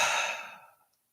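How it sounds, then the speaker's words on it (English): A deep breath exhaled in release during a breathing practice, one soft, airy sigh fading out over about a second, close and alone. "Allow yourself to practice a deep breath here like such."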